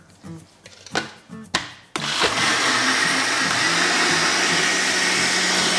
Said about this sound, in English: all we're gonna do now is blend it all up